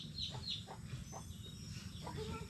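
Soft, repeated honking calls from a goose come in a loose series at moderate distance over a low background rumble.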